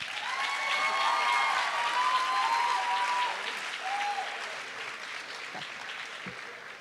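A high school senior awards ceremony audience applauds steadily in a large hall, a dense, sustained wash of many hands that gradually thins out toward the end.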